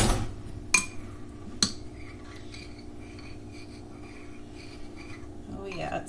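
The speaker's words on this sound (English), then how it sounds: "And we'll stir that up." A spoon stirring hot strong coffee into a sour cream chocolate cake batter in a bowl, with a couple of sharp clinks against the bowl early on followed by softer scraping, close by and under quiet room noise.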